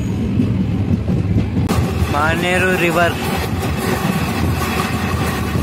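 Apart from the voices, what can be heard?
Kazipet Balharshah express train running at speed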